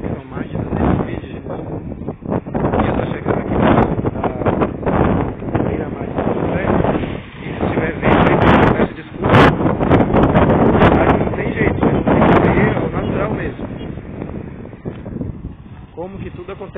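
Wind buffets the microphone at the São José seafront in Santa Catarina, loud rumbling gusts rising and falling throughout, with a person talking over it.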